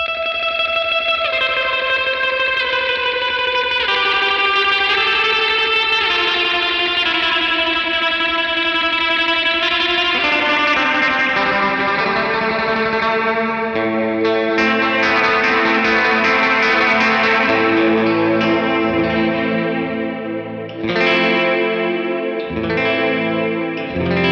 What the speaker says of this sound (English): Now for this verb, it's very atmospheric.